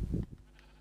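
A sheep bleats once in the Minecraft video game, a short, close, low bleat that fades quickly into quiet.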